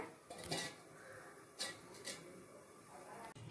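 A lid is set on a cooking pot of vegetarian Kashmiri-style potatoes, heard as a few quiet metallic clinks and taps, with two or three brief brighter clatters against a soft room background.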